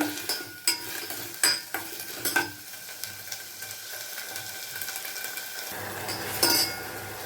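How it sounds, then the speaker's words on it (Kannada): Chopped onions frying in oil in a pan for a bitter gourd palya, a steady sizzle under repeated sharp clinks and scrapes of a utensil stirring, with a brighter burst of sizzling near the end. "ಈರುಳ್ಳಿ ಈಗ ಚೆನ್ನಾಗಿ ಎಣ್ಣೆಯಲ್ಲಿ ಬೇಯ್ತಾ ಇದೆ"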